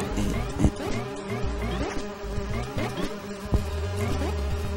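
Bees buzz in Legend of the Brofist, a video game, in a dense mix of game effects, music and sharp hits. The buzzing runs steadily through the whole stretch.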